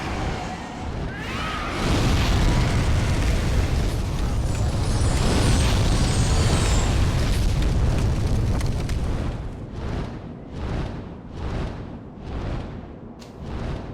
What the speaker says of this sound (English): the dragon will blast everyone on this bridge